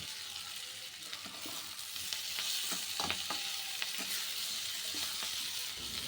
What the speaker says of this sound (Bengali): দিয়ে শিম আলুটাও বেশ ভালো করে এবার মিশিয়ে নেব